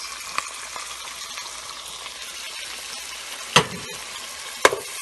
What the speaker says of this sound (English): So continually stirring this